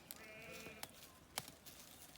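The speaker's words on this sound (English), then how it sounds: "A lovely mob of goats, I would say." Goats in a farm pen on a frosty morning bleat faintly and intermittently at a distance, with a few sharp clicks and knocks over a steady background hiss.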